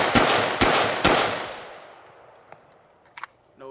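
A Zastava ZPAP M70 AK rifle fires three loud, sharp shots in quick succession, each trailing into a long echo, followed by a few faint metallic clicks and taps, with no talking.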